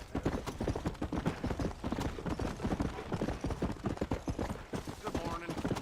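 Horse hooves clip-clop in a steady rhythmic gait in Red Dead Redemption, close and clear, with someone talking over the footfalls.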